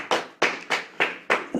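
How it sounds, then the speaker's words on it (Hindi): A church congregation claps together in unison, five sharp, loud, evenly spaced claps about a third of a second apart, close and with no talking. "हम सारे लोग मिलकर के तालियां बजाएं"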